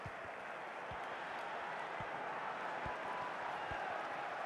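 Stadium crowd noise from the FC Mobile football game during an El Clásico match between Real Madrid and Barcelona, a steady broad wash of cheering and applause that holds evenly throughout, with faint low thumps underneath and no talk.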